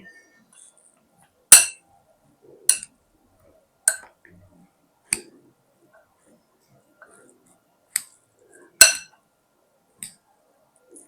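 A spoon clinks sharply against a bowl as sprout chaat is mixed with cut cucumber, onion and tomato, giving about eight crisp, separate taps spread unevenly over quiet gaps.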